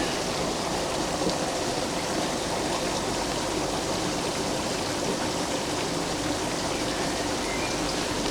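Water from a pressure shower filter fed by a 13,000 litre pump pours steadily, a dense, even rushing spray close by that stays constant with no talk.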